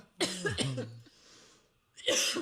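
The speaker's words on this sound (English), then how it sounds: "Cough on the podcast." Two harsh, close coughs, one at the start and another after a quiet breathy pause, loud and sudden.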